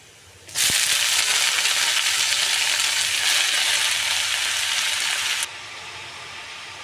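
Leafy greens hit hot oil where garlic and onion are already frying, bursting into a loud, dense hiss that holds steady for about five seconds and then drops sharply to a low background sizzle. No one speaks.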